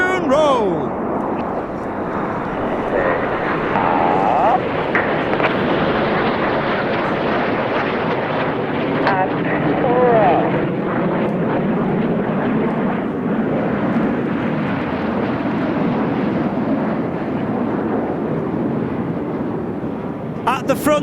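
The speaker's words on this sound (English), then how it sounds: "2025 is the 20th anniversary of the Royal Air Force Typhoon display." An RAF Typhoon fighter jet roars through a flying display at an outdoor motorsport festival, a loud sustained rumble swelling and fading beneath a commentator's voice and wind noise.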